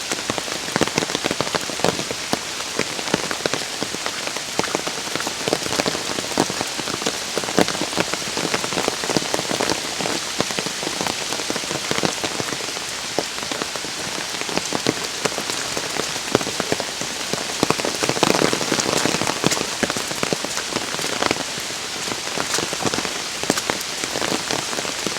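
Heavy, steady rain pours down on a summer hike at the start of the rainy season, a dense, even hiss of drops hitting the ground and puddles close by, holding constant throughout with no talking.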